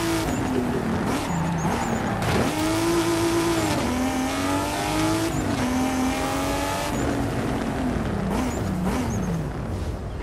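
A Ford Mustang in the Forza Horizon 5 racing game, its engine droning and rising through gear changes with tire squeal over a steady, loud continuous roar.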